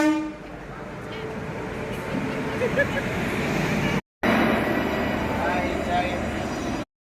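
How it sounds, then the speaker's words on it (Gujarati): A passenger train at a station on the Vadodara to Haridwar route rumbles steadily with broad station noise and a brief horn-like tone, while people talk nearby. "આ ટ્રેન અમારે આવી ગઈ છે એસટી આમાં બેસીને અમારે જવાનું છે"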